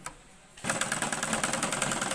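A sewing machine sewing a double line of stitching, starting after a brief quiet pause and then running as a steady, close, rapid rhythmic whir with no talking.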